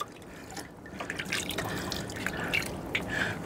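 Water drips and trickles while pets are being bathed, a continuous wet patter with scattered brighter drops, moderately close and steady throughout.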